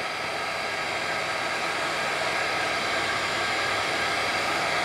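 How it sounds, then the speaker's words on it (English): Hairdryer blowing warm air onto a GoPro mount, a steady loud whooshing hiss that runs unbroken from start to end. "The hairdryer works."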